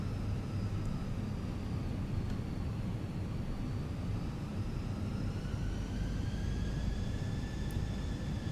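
Simulated engines of a Fenix Airbus A320 in Microsoft Flight Simulator 2020 during a flight from Pensacola to Orlando: a loud, constant low roar with a steady whining tone that slowly rises, with no voices.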